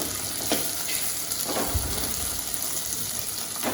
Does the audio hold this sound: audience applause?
no